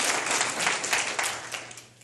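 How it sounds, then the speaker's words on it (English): An audience applauds a comedy magician at a marketing talk, with dense, steady clapping that fades toward the end and no voices over it. "Give him a round of applause."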